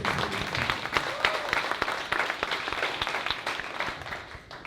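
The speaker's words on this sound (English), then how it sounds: "Let's give her a round of applause." Applause from an audience at a school introduction as Ridgedale School's principal is welcomed, a dense patter of many hands clapping steadily for a few seconds before tapering off.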